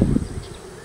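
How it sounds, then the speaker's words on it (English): Honeybees buzz around a mite-infested hive in a low, steady drone close by, with a slightly louder burst at the start before settling into a soft hum. "The bees are not too bad today."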